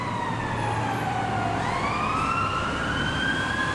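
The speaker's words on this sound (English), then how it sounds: "There's an ambulance coming up." An ambulance siren wails along a busy New York street near Chinatown and the Lower East Side, loud and continuous, sweeping down and up in pitch over a steady rumble of city traffic.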